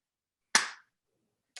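A single sharp clap lands close and crisp, followed by a much fainter second snap about a second later, with silence around both.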